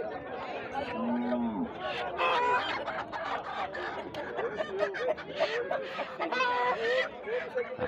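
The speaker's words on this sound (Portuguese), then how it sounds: "Tá negociando aqui as galinhas" Chickens and roosters cluck and squawk among the crowd at an outdoor animal market, with scattered bird calls and people talking over a busy, noisy background throughout.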